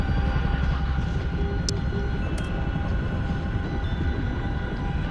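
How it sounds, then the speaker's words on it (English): A Chinook helicopter in the flight game DCS drones loudly and steadily throughout, a dense rotor-and-engine roar with no pauses. "I gotta lower the volume a little bit on DCS because the Chinook's too loud"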